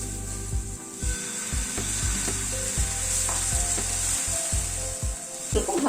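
Thin batter sizzles on an oiled pan, brushed with white oil, for a breakfast pancake, a steady close fry with sharp taps and scrapes of a ladle spreading the batter, broken by low hum pulses.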